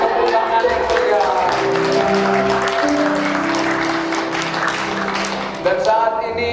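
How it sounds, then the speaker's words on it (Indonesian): Applause from the guests at a Christian wedding ceremony for the couple Riki and Rina, a sustained crowd clapping with steady density and music, running the whole length and swelling briefly near the end. "Berikan tepuk tangan yang meriah."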